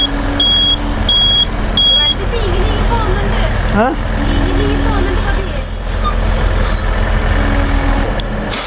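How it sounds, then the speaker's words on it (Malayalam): A heavy vehicle rumbles closer along a congested road during a traffic block, with high beeps early on and people talking throughout. "അവിടെ ഇങ്ങോട്ട് വണ്ടി വരുന്നുണ്ടല്ലോ."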